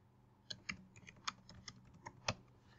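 Code is typed on a computer keyboard in a quiet room: a close, steady string of separate key clicks at an irregular rhythm, with nobody speaking.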